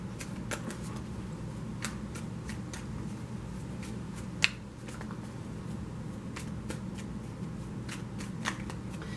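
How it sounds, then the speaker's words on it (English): Tarot cards being shuffled by hand, a steady run of soft riffling slaps and flicks, close up and alone, with no voice. "Let me get shuffling these."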